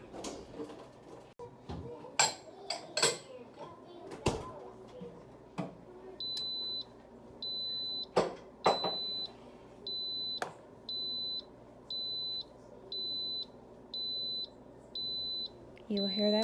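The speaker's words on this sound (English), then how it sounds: "You will hear that beeping noise." An Instant Pot pressure cooker timer sounds a regular series of about nine short, bright electronic beeps, steady and fairly close, with scattered kitchen clatter and movement noises around them.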